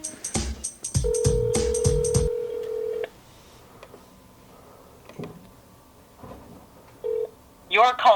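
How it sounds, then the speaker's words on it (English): A telephone call being placed: a quick burst of dialing key tones, then a long steady tone, followed by quiet pauses broken by short beeps and a ring, with people talking faintly between them. "All right, let's phone them."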